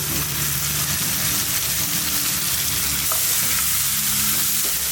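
Bitter gourd and hilsa roe fry in a pan with green chili and salt, a loud continuous close sizzle with a few faint knocks of a gently moving spoon.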